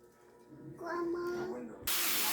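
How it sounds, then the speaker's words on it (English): Chicken lands on a hot indoor grill and breaks into a sudden, bright sizzle right after someone speaks. The frying hiss is loud and close, holding steady to the end. "As soon as it gets hot, go ahead and throw your chicken on there."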